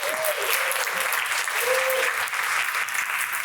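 An audience at a live event applauds guests Sarah Battle and Hannah Saunders, sustained loud clapping from a crowd filling the whole moment with no pauses.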